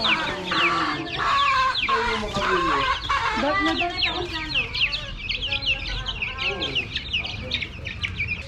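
Many chickens, about twenty newly bought, cluck and squawk together in a dense, continuous chorus, with a voice talking underneath at moments.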